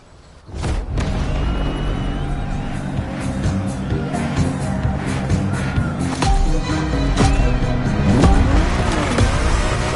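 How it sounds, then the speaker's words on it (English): A Ferrari 365 GTB4 Daytona is driven in The Crew Motorfest racing game, its loud engine droning and revving with rising pitch sweeps and some tire squeal. The sound is close and continuous, and a faint voice is partly heard under it. "I'm talking about the Ferrari 365 GTB4, also known as the Ferrari Daytona."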